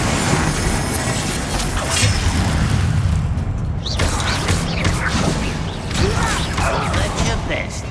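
Confringo fire blast spell cast in Hogwarts Legacy, a burst of booming impacts and crackling debris amid ongoing battle noise, with layered game effects throughout and sharp transients near the middle.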